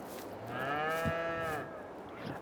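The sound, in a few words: cattle mooing, Holstein dairy and black Angus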